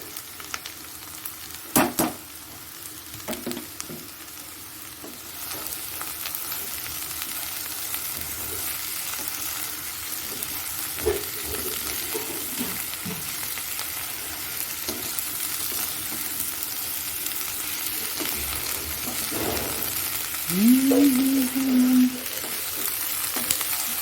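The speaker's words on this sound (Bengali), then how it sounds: "এতে এবার পেঁয়াজগুলো দিয়ে দিচ্ছি।" Onions sizzle as they fry in a pan with cooked potatoes, cumin and dried chillies, a steady close hiss with occasional stirring clatter and a brief squeak near the end.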